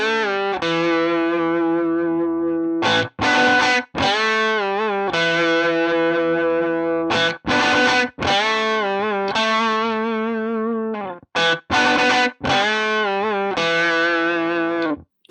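A distorted electric guitar plays a rocking riff that includes a two-note dyad. The tone is loud and sustained, with short breaks between phrases and no talking.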